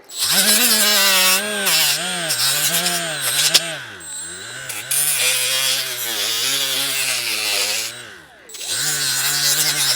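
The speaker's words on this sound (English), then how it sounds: "Let's try a wire wheel." A wire wheel on a power tool grinds rubber off a DR650 motorcycle handlebar: a steady, loud whining drone that rises and falls in pitch as pressure changes, dipping briefly near the end before spinning back up, no talking.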